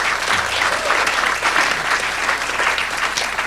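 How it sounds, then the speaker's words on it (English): An audience applauds students of a UN program at a keynote address, producing dense, steady clapping that fills the hall at an even level from start to finish. "so I want to applaud those students."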